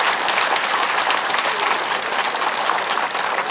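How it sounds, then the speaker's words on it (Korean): An audience at a political speech in Ansan bursts into sustained applause, a dense, even wash of many hands clapping at close range with no pauses. "이분들을 위해서 우리 격려의 박수, 감사의 박수 한번 드립시다."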